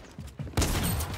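Rapid bursts of gunfire ring out in the video game Fortnite, starting with a couple of quieter shots and then breaking into a loud, sustained volley, heard close with no talking over it.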